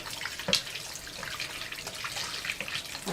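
Water runs steadily from a tap while kneaded flour dough is rinsed to wash out the starch, a continuous close splashing hiss with small irregular splashes and no talking.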